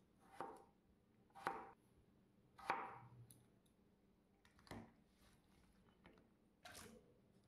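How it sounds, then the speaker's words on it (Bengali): A knife chops raw potatoes into square pieces on a board, six crisp, distinct cuts spaced about a second apart, close and fairly quiet with no talking. "এইভাবে পুরো আলুগুলো আমি কেটে নেব।"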